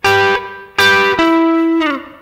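Electric blues guitar plays a short lick without bends: three ringing, slightly distorted picked notes, each sustaining before the next, with a quieter final note fading out, alone and close.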